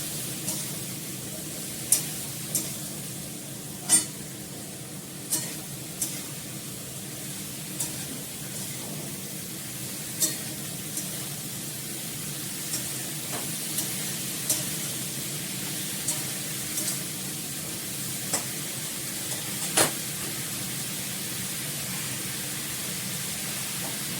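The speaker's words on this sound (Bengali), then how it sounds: "ভালো করে নাড়াচাড়া করে জল দিয়ে দেবো।" Vegetables, including sweet potato and eggplant, sizzle steadily in a hot pan with a constant hiss, broken by sharp clicks and scrapes of stirring at irregular intervals.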